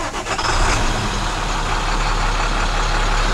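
A work truck with a PTO engaged runs loud and steady from start to finish, a heavy, continuous engine roar close by with no pauses and no voices.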